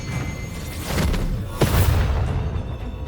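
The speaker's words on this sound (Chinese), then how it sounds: "陈北玄的丹炉真炸了！" A spirit-treasure-grade alchemy pill furnace bursts apart in a fantasy cultivation drama: a single loud, deep boom at mid-clip over a steady rumbling background, then a sustained low roar as it fades.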